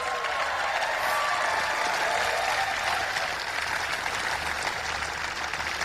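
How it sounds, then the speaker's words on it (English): Audience at the One Young World Summit 2015 in Bangkok applauding, a steady, dense wash of clapping from a large crowd filling the hall, fairly distant and even throughout. "give them a round of applause"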